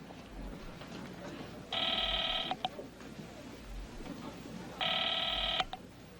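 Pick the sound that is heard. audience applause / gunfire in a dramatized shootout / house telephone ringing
house telephone ringing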